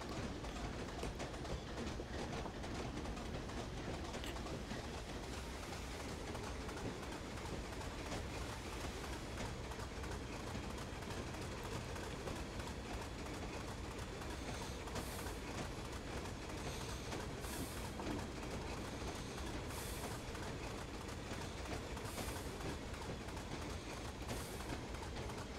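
Class 25 diesel locomotive running on rails across the Weardale and Teesdale network, a steady continuous rumble of engine and wheels throughout, close and even, with no talk.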